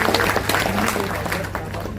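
An audience in a hall at an award event claps vigorously, a brisk, continuous patter of many hands with a voice faintly mixed in beneath.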